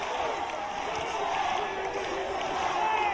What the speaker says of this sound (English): The crowd are rallying here for Sato